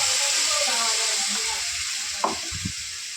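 Water from rinsing the mixer jar hits spiced masala frying in oil for a spicy red mutton curry, producing a steady loud sizzle and hiss that eases slightly, with a couple of brief clinks toward the end.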